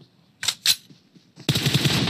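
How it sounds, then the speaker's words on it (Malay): Gunfire in the mobile battle royale PUBG Mobile: two sharp close shots, faint distant pops, then a rapid sustained automatic burst to the end. "Yuhai Boy melepaskan tembakan dekat situ"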